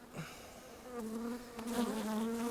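Honeybees buzz loudly and steadily around a closed beehive, a dense droning hum that swells and stays close, with insects crowding near the microphone.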